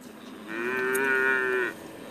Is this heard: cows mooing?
yes